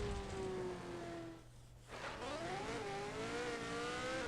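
The engine of a race car in the mobile stunt racing game Jet Car Stunts 2 whines steadily and shifts pitch. It dips briefly, then revs back up and wavers, loud and continuous with no talk.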